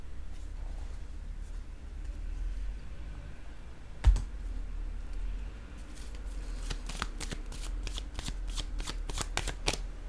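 Official contract papers handled and shuffled, with soft rustling and a sharp thump midway, then a quick series of crisp crackling tears and crumples toward the end, close and without speech.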